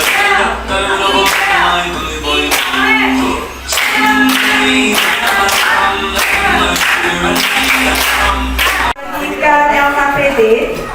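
A primary school class claps hands on cue during a computational-thinking lesson, crisp bursts of unison clapping in repeated rhythmic groups, loud and close, with a brief pause near the end before clapping resumes.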